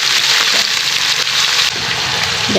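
Beans are tipped into a hot pan after the onions and start frying with a loud, close sizzle and a watery hiss that holds steady throughout, with a brief clatter near the end.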